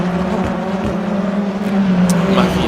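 BTCC touring cars racing at Adelaide in rFactor 2, a steady engine drone with shifting pitch as cars run close together, faint and continuous with no talk.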